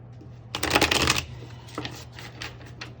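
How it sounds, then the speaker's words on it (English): A deck of tarot cards is riffled in one quick, crisp burst, followed by a few softer flicks and taps as the cards settle, close and clear with no voices. "let me just quickly shuffle this again here"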